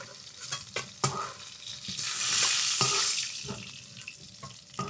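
Chang fish frying in a pan, turned side to side: a steady oily sizzle that swells loudest midway, broken by clatters and scrapes of a utensil against the pan.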